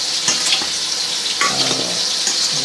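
Spices cook in a hot pan with a steady broadband sizzle, broken by a few scraping stirs and light clinks, loud and close with no voices.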